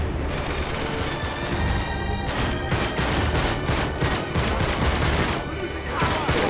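Rapid, sustained gunfire from a PS3 action game, a dense fusillade of overlapping shots and bursts running loud and continuous throughout, with a few brief dips between volleys.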